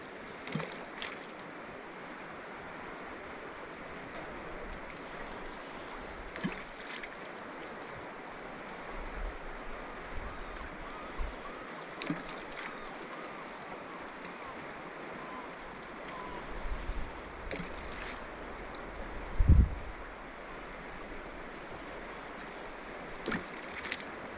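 The Kenai River in Alaska flows past steadily with a soft, continuous rush and faint gurgling, occasional small knocks and splashes close by, and no talking.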